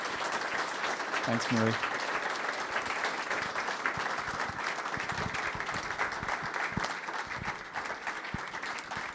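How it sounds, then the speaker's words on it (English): Audience at the Fine Arts Work Center applauds after a poetry conversation, a long, full round of steady clapping with a brief spoken thanks near the start. "Please join me in giving Marie Howe and Pádraig Ó Tuama the largest round of applause"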